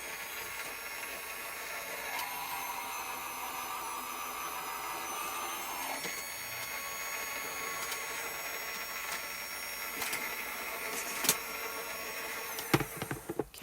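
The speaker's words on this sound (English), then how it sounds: "now I'm going to run this off camera into my die cutting machine here" Gemini Junior electric die cutting machine running steadily for over ten seconds, a constant motor whine and hum with faint mechanical clicks and a few sharper clunks near the end, alone with no talking.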